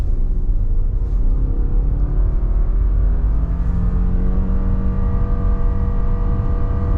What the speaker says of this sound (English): 0 to 60 in the 2026 Subaru Forester non-hybrid